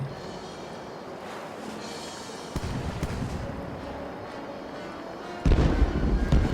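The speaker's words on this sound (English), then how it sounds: "We'll do it with the back cannon." Ship cannons fire in the pirate sailing game Caribbean Legend, a couple of heavy booming blasts standing out over a continuous bed of ocean waves and creaking seaborne ambience.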